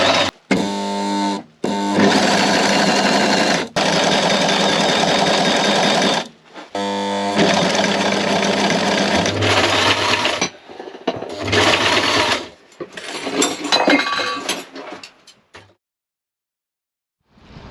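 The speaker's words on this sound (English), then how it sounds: "I'm just sewing the edging onto the aft cockpit curtain" A sewing machine stitches edging onto a large aft cockpit curtain for a boat, running in long steady bursts with brief stops and starts between them, close up and loud, no talking.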